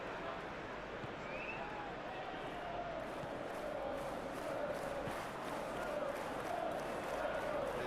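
A stadium crowd at a Manchester United football match in a video game, a steady, distant roar of massed fans with faint rising chants running throughout, fairly quiet and unbroken.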